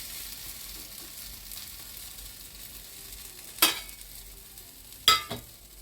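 Bonda fry in hot oil, cooked on both sides, with a soft continuous sizzle broken by two sharp clinks from a utensil against the pan.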